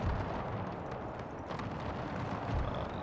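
Artillery booms from a Napoleonic-era battle in Napoleon: Total War's Era Mod, a dense, continuous rumble of low cannon fire with heavier thuds near the start and end and no voices.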